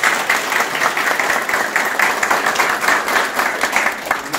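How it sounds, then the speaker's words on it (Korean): Party members at a provincial political rally in Yeongdong applaud in a dense, sustained burst of clapping that stays loud and even throughout, with no speech over it. "영동 우리 당원들께서 한번 박수로 환영해 주시기 바랍니다"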